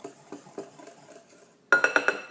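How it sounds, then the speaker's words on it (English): Dry pancake ingredients are whisked in a bowl. Soft, rhythmic scraping strokes come first, then a burst of sharper metallic clinks as the whisk strikes the bowl's side. "So now we're going to take a whisk, or you can use a spatula or a beater. We're going to mix together all of our dry ingredients."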